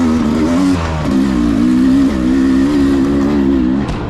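A 2022 Beta 300 Race Edition motorcycle engine revs loud and close, rising and holding at moderate throttle in a few sustained pulls with a short dip between them.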